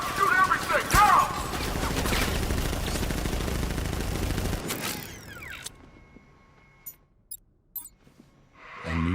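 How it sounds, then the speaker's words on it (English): Rapid gunfire from a militia ambush in the video game Batman: Arkham Knight, a loud dense burst with mechanical clatter for several seconds, then cutting off to near silence broken by a few faint clicks and taps. "Open fire! Shoot everything! Now!"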